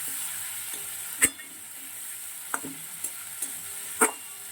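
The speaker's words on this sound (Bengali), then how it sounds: "মাছটা একদম হালকা ভেজে দিলাম" Tangra fish frying lightly in a pan, a steady soft sizzle with occasional sharp spatula taps and clinks against the pan.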